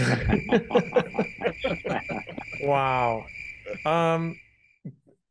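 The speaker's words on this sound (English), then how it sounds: "Just a symphony of crickets." A crickets-chirping sound effect plays as rapid, evenly spaced chirps over the first few seconds, fairly loud. A voice speaks briefly afterward.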